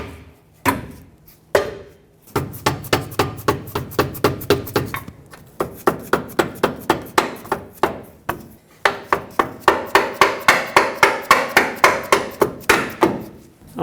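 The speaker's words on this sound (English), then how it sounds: "If you need to tap it in, use a rubber mallet." A rubber mallet taps a lower control arm bolt into place on a 2003-2012 Chevrolet Colorado 4x4, striking in quick repeated bursts of close, sharp knocks with short pauses between runs.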